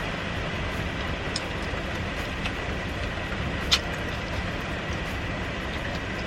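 A school bus drives past a parked car with its sunroof open, a steady broad rumble of engine and road noise holding at a constant level, with one brief sharp click partway through.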